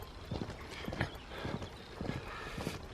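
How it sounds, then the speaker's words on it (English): Horses and foals walk outdoors, hooves clip-clopping in an irregular, repeated rhythm at moderate distance, with faint background noise and no talk. "I've just been making friends with horses and foals"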